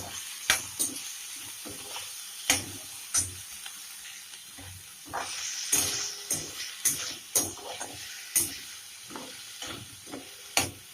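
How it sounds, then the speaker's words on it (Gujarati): Onion, garlic and coriander fry in a hot pan with a steady crackling sizzle, punctuated by regular sharp clinks and scrapes of a spoon stirring against the metal. "આપણે હવે આમાં ડુંગળી, લસણ અને ધાણા પણ સાથે જ નાખી દઈશું."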